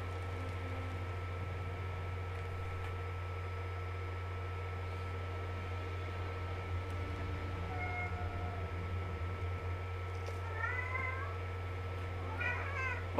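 A cat meows a few times, short rising calls near the end, over a steady low hum from a game playing in the background.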